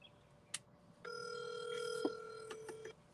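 A phone call rings through a speakerphone with a steady electronic ring tone that holds for about two seconds. There are a few soft clicks and knocks before it and a faint room background.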